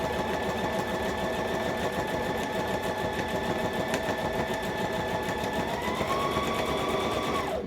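A sewing machine runs steadily, stitching a drawstring channel on a fabric dice bag. The needle keeps a fast, even mechanical rhythm close by, with a slight shift in pitch near the end.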